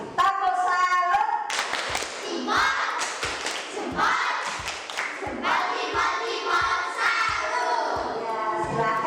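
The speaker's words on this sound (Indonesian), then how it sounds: "Kita kasih tepuk salut untuk semua yang sudah mewakili kelompoknya masing-masing." Schoolchildren in a classroom perform a rhythmic salute clap in unison, sharp patterned claps and thumps close by, with some voices chanting along.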